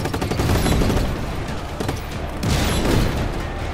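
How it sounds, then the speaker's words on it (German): Heavy booming cannon fire in Just Cause 3, dense overlapping blasts and rumbling explosions rolling continuously, loud and close. "Ach, das sind die fetten Kanonen!"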